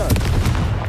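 A Confringo fire blast spell in Hogwarts Legacy erupts as a loud, punchy explosive crack with a rumbling low body, a short burst of combat noise with no clear speech.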